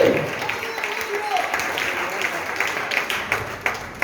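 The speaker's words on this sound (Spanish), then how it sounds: "Dale un aplauso fuerte." Church congregation applause at an anniversary service, a sustained moderate wash of clapping with scattered sharper individual claps, speech faintly mixed beneath.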